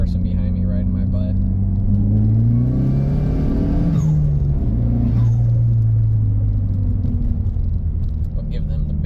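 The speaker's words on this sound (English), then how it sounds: "Push the clutch in, give it a little bit of gas, let the clutch out." Engine of a manual-transmission car revving while downshifting into second gear on the road, a steady rumbling drone whose pitch climbs, dips with the clutch and settles again, heard from inside the cabin with a driver talking over it.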